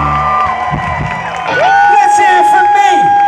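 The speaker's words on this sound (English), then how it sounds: "Let's hear it for the band." A concert crowd cheers loudly for a band, with whoops, shouts and whistles swelling over a few seconds.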